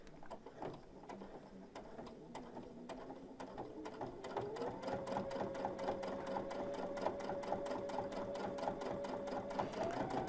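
Top stitching on a dog-shaped softie, a sewing machine taps out rapid, evenly spaced needle strokes that speed up and settle into a steady whirring run, close and moderately loud with no voices.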